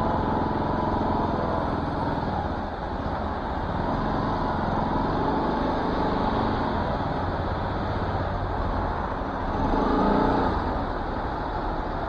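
The engine of a 2021 RS 200 motorcycle drones steadily and close, a continuous buzzing hum that swells slightly around the middle and again near the end, with no talk.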